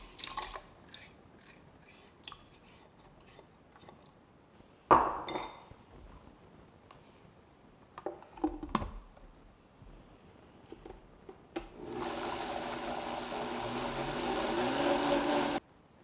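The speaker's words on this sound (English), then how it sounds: "And now let's blend this till it's fine." A Vitamix blender blends soaked pancake batter, starting after a few light clinks and handling sounds and then running as a loud, steady whir for the last few seconds.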